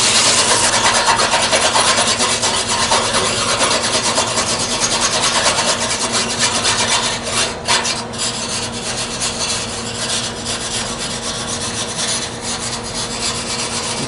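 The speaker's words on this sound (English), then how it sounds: "You can see a little bit of dust whenever you're scraping that off." Dust is scraped off a part of a 2001 Carrier 38CKC central air conditioner during a deep cleaning, a steady close rasping scrape running continuously and easing slightly partway through.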